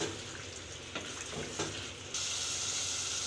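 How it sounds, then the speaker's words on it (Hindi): Meat being fried with spices for aloo gosht sizzles steadily at close range, a soft continuous hiss with a few faint stirring knocks, growing brighter and louder in the final second. "इस तरह से हम गोश्त को मसाले के साथ जब भुनेंगे"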